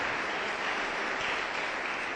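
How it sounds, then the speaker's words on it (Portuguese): A church congregation claps and applauds steadily, a dense unbroken patter of hands from start to finish. "dá uma salva de palmas para Jesus"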